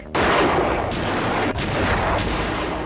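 A gang member leans from a car window and fires a burst of gunshots at a rapper's BMW, loud sharp reports repeating in quick succession over about three seconds, with no talking.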